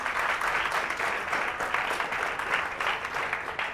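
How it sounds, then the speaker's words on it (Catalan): Applause from a studio audience at a Catalan TV quiz show, greeting a school team. Steady, even clapping fills the stretch from start to finish at moderate loudness, with no voices over it. "Un aplaudiment per ells"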